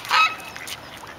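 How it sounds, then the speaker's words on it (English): Ducks being fed bread give a short, loud honking call near the start, followed by quieter outdoor ambience. "Now we can feed these ducks."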